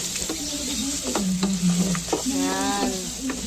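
A spoon stirs carbonara with bacon, sweet ham and butter in a hot pan, producing close, rhythmic scraping strokes over a continuous sizzle.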